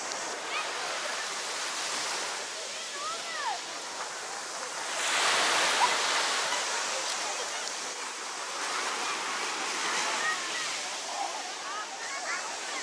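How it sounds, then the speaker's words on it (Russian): Sea waves at Damlataş beach in Alanya wash and hiss steadily close by, with a louder swell surging in around the middle and a faint voice or two in the background. "покажу вам уже без водонепроницаемого чехла, чтобы вы посмотрели и послушали море"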